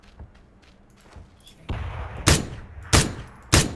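Gunfire in the video game PUBG, several sharp separate shots with a few duller thuds between them, fairly close, with no talk over them.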